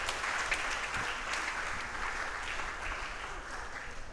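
A church congregation at a French parish Sunday of the Sea service breaks into steady applause, a dense, even patter of many hands clapping that stays moderately loud and constant with no voices over it.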